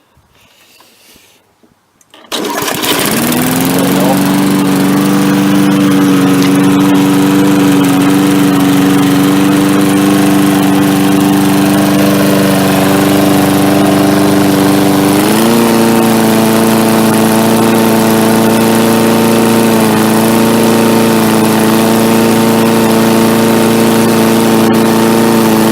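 An MTD push mower's small engine catches after a brief quiet start and then runs steadily at a loud, constant idle, with a slight step up in speed partway through and no talking.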